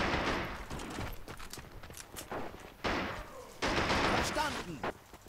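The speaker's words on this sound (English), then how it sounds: "let's keep that MG going" Machine gun fire in the World War II strategy game Men of War: Assault Squad 2 on the German campaign, heard as dense, rapid bursts of gunfire overlapping other shots, with voices talking through it.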